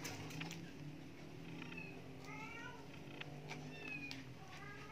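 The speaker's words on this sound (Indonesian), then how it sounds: "Kucing." A cat meows in several short, rising calls spread across a few seconds, moderately faint against background noise.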